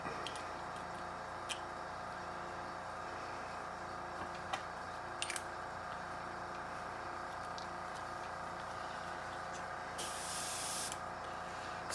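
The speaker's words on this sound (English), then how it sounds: "And I'm going to spray wet." A steady, faint hiss of a spray gun applying thinned paint to a plastic model kit runs continuously, with a brighter, stronger burst of spray near the end.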